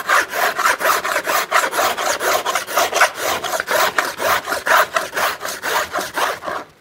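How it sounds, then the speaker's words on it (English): Spokeshave smoothing the surface of a hand-carved wooden archtop guitar plate. Brisk, rhythmic scraping strokes repeat about three times per second, close and fairly loud, with no voices. "Now the other thing we can try is, you know, our trusty spokeshave."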